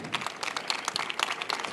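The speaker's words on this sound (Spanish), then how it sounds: "les pido un muy fuerte aplauso" Audience applause for a guest speaker at a Campus Party Mexico talk, a steady dense patter of many hands clapping close by, with no voices over it.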